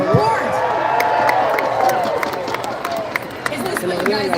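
Crowd cheering and yelling at a Red Bull Soapbox race in Edmonton, Canada, a lively outdoor hubbub of shouts and whoops close by, with a commentator's voice talking over it.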